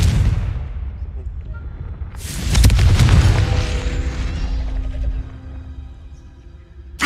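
A Confringo fire-blast spell cast in Hogwarts Legacy, heard as a loud booming burst that swells midway and fades into a rumbling tail, with a faint sharp pop at the very end.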